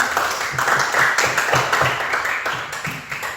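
Classroom applause from a group of students, a busy, fairly loud burst of clapping with a loose rhythmic pulse running through it for a few seconds.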